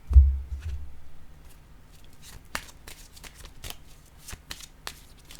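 Oracle cards being shuffled by hand: a dense, close run of soft riffling flicks and papery slaps, with a low thump at the start and the pace picking up in short bursts.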